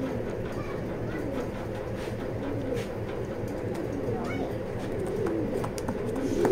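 Racing pigeons in a loft, including a female, give soft, low cooing over a continuous murmuring background, fairly faint and steady throughout.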